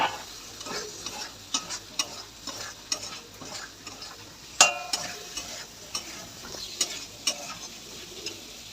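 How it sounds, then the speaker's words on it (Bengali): Chopped tomatoes frying in a pan are stirred, giving a steady soft sizzle with repeated scraping and clicking strokes at an irregular rhythm, close and moderately quiet, with no voices. "ভালো করে নেড়ে চেড়ে নেবো।"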